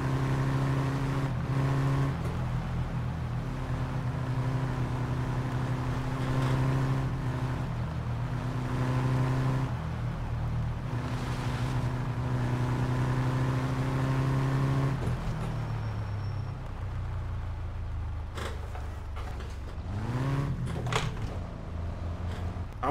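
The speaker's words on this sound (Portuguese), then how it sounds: "que carro gostoso de dirigir" Engine of a car driven in the game My Summer Car drones steadily with tonal harmonics, shifting pitch as it changes speed, then drops and rises again near the end with a few sharp clunks; no talk.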